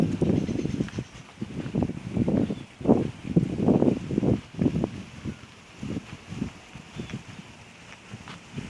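Cool wind blowing through a park garden beside the water, gusting steadily and buffeting the microphone in rough, rising and falling surges, with no talking.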